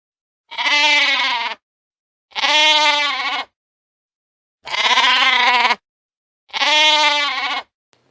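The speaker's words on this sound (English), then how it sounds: "Can you find the sheep?" Four long, loud sheep bleats ring out one after another in a farm-animal sound game, each lasting about a second. Clear silent gaps separate the calls, with nothing else heard around them.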